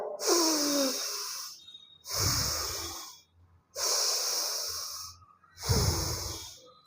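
Seated in a yoga pose, someone takes four deep, slow breaths, each a long airy inhale and exhale rushing close to the microphone, separated by brief pauses, with no talking.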